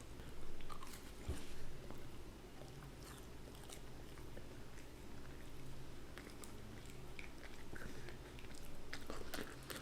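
Someone eats food dipped in a pulpy mustard sauce, with close, soft bites and chewing sounds, some crunchy and some wet, scattered over several seconds of quiet room noise and no speech.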